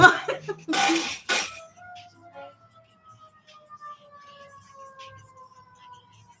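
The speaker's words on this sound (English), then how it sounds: "The freaking ambulance was passing right at the same time." An ambulance siren sweeps past outdoors as a long falling wail, fading off after a burst of loud noise and a short voice at the start.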